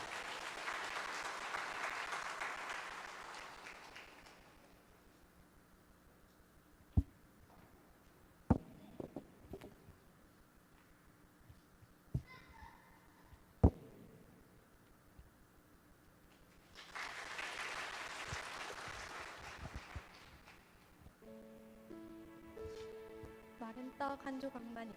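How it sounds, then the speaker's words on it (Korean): A church congregation breaks into loud, sustained applause for a newly married couple, then falls quiet amid scattered knocks and shuffles before a second full round of clapping rises, followed by soft piano notes. "우리 큰 박수로 축복하겠습니다."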